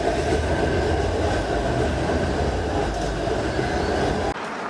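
A modern Toronto streetcar runs past close by, a loud, steady rumbling roar with rail noise that drops away abruptly near the end.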